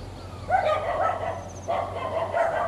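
Dogs bark at a Buddhist temple near Nha Trang, giving two clusters of mid-distance yapping barks over a steady low background hum.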